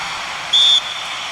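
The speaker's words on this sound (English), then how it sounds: "Whistle's gone, that's foul." A single short, shrill referee whistle blast in an eFootball match between Manchester United and Bournemouth, sounding loud and clear over a steady crowd roar.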